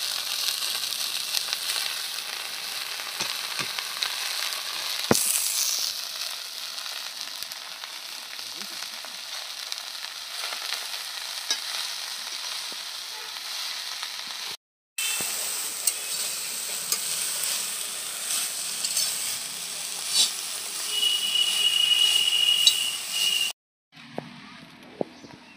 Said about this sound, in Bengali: এই শাকটা ভেজে নামাবো।